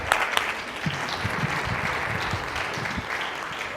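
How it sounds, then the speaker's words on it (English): Audience applause from a crowd at a live comedy show, a steady wash of clapping that holds for the full length without a break. "Give him a round of applause."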